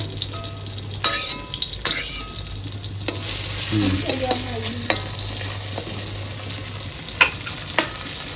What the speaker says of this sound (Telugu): అంత నల్లేరు తీసుకుంటే చూడండి కొద్దిగా ఫ్రై చేసిన తర్వాత